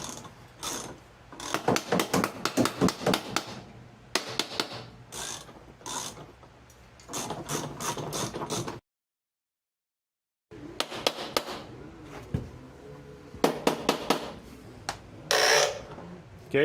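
A hammer tapping around the clamp ring of a Pentair pool cartridge filter, quick bursts of metallic rattling taps in clusters, close and fairly loud, with a short silent gap midway and a voice speaking in between.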